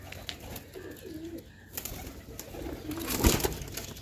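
Pigeons coo in a home loft where a hen sits on eggs, soft low calls close by with some rustling and movement.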